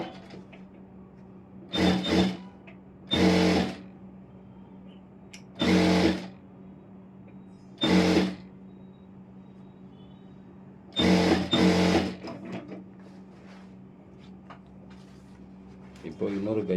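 Sewing machine stitching the lining of an Aari work blouse in short bursts of whirring, about six separate runs with pauses between them, close and loud over a low steady hum.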